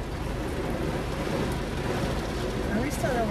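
Rain falls steadily as a dense, continuous patter close by, with a low rumble underneath, for the whole moment.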